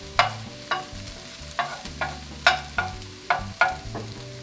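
Chopped onions and garlic sizzle in an oiled pan for a pork and white wine stew, with about eight sharp, rhythmic spatula scrapes as they are pushed to the edges, close and clear with no talking.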